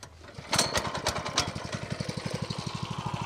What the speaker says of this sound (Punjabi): ਛੋਟਾ ਟਰੈਕਟਰ ਹੀ ਉਹ ਹੈ ਜਿਹੜਾ ਪਹਿਲੀ ਰੱਸੀ 'ਚ ਸਟਾਰਟ ਹੋ ਗਿਆ